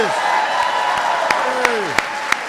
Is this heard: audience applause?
yes